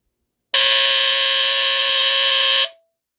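A Honeywell TC49D-1028 smoke detector alarm runs on AC power in a test: a loud, steady, raspy high-pitched squeal with a faint modulated tone. It holds for about two seconds, then cuts off abruptly.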